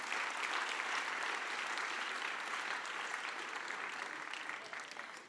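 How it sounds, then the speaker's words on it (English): A maritime summit audience applauds a departing panel with sustained, even clapping from a large crowd that tapers off slightly at the close. "So I'm going to suggest that we give them all a round of applause again"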